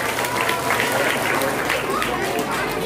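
Children at a Maulid religious gathering clap together, a busy, continuous patter of applause mixed with crowd chatter and nearby movement.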